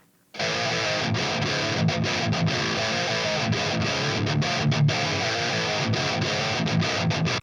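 Heavily distorted electric guitar through the STL Tonality Lasse Lammert plugin, quad-tracked and soloed, churning out a dense, loud riff with steady chugging and brief rhythmic stops, alone without voices.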